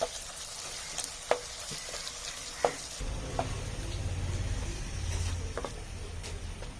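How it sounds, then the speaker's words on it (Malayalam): Sliced onions with chilli powder and masala sauté in a pan for Kerala chicken biryani, giving a soft, steady sizzle broken by a few sharp spatula clicks against the pan. "ഈ പൊടികളുടെ പച്ചമണം മാറുന്ന വരെ നന്നായിട്ട് വഴറ്റിയെടുക്കാം."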